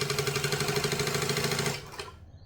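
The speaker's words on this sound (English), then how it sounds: "So I'm just gonna hold it in the center and stitch, and then hold it in the center and stitch through." A sewing machine stitches through the centre of a small fabric strap for a troll sewing project, a steady close rapid whir and chatter that runs for nearly two seconds and then stops abruptly.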